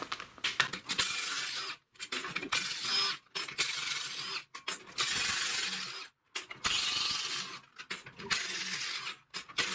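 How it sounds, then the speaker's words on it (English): A socket ratchet removes cover bolts from a John Deere lawn tractor, its clicking coming in close, busy bursts separated by short silent pauses. "Now you'll need a 1/2-inch socket to take this cover off, or all the bolts off, I mean."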